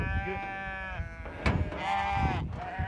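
Ewes in a flock bleating nearby, several long wavering calls overlapping one after another with brief rustling and thumps between them, fairly clear and close.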